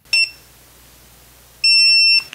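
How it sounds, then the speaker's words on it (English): An SK-1323/SK-2323 series keypad gives two loud electronic beeps on accepting a proximity card, a short one followed by a longer steady tone, clear and close with no talk. "A beep will indicate that the proximity card is accepted."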